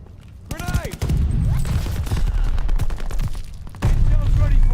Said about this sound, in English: You ran right into that grenade.